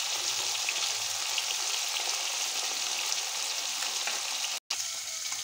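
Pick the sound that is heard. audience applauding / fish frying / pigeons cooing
fish frying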